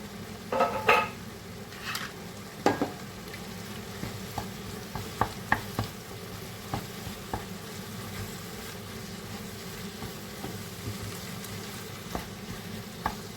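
Peppers and tomato paste fry in a pan for a ground-meat sauce while a spoon stirs them. Soft, steady sizzling runs beneath sharp utensil scrapes and clinks against the pan, which are heaviest at the start and then come sparser and lighter.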